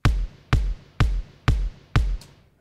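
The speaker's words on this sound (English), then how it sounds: "Two kicks played by Battery 4 here" Layered kick drums from Battery 4 thump five times at a steady beat, each punchy hit with a sharp attack and a deep booming tail, loud and alone.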